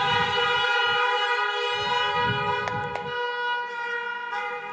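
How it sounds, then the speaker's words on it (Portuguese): A loud, sustained car horn blares steadily for several seconds, with engine rumble and brief knocks underneath. "Buzina aí."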